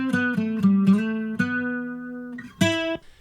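Acoustic guitar run through EQ with the lows cut, compression and a Fat FX Funk Enveloper preset plays a bouncy, punchy riff of sustained notes, a short pause, then a sharp final stab.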